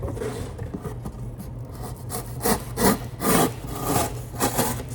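A thick-bladed 80CRV2 steel knife saws through cardboard in close back-and-forth strokes, rasping and scraping, the strokes growing louder and choppier toward the end.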